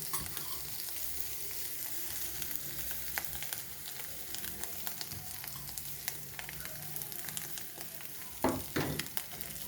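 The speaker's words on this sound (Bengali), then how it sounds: "ধনেপাতা কুচোনোটা দিয়ে কিছুক্ষণ নেড়ে চেড়ে নেব" A pan of fish kachori filling being stirred with chopped coriander, giving a steady low sizzle with scraping spoon strokes throughout and a couple of louder clatters near the end.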